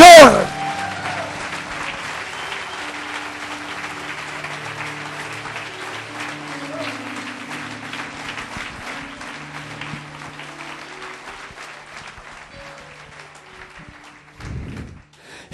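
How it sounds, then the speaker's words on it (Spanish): Church audience applauding at length with dense, steady clapping that slowly thins and fades toward the end, while a voice and low sustained tones carry on underneath. "Un aplauso para el Señor"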